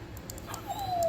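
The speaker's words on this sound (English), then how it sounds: "I don't know why the dog's so upset." A dog whimpers briefly and sounds upset, ending in a thin, rising whine, heard close by in a workshop during woodworking.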